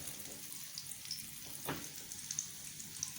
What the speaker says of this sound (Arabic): طبعا هحمر ناحية واحطها في الناحية التانية اهو اهو